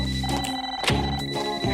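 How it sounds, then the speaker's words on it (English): Cartoon toaster ringing like a telephone, a short, loud, close electronic ring that trills twice in quick succession, with no voices. "Your toaster's ringing."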